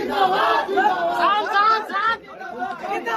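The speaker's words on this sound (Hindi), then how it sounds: "जहां पवन सिंह जा रहे हैं भीड़ इकट्ठा हो जा रहा है" An excited crowd gathered around Pawan Singh during a Karakat election outing fills the air with overlapping chatter and shouting voices, close and continuous.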